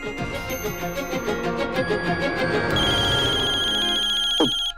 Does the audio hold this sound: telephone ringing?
yes